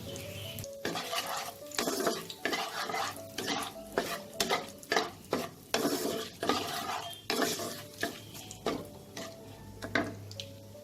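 Bay leaves and a pinch of asafoetida sizzle in hot oil with cardamom, cinnamon and cloves for a Bengali-style chana masala, broken by repeated scraping stirs of a spoon against the pan, with no voices.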